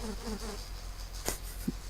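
A faint bee buzz from a video game hums softly in the background for a couple of seconds, with a brief tap and a short low blip.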